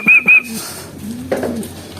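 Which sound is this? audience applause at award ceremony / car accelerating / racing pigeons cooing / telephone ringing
racing pigeons cooing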